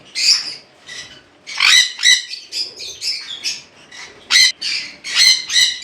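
Conure parrots at a bird farm in Howrah giving loud, harsh squawks in rapid overlapping bursts, several birds calling close by with short gaps between screeches.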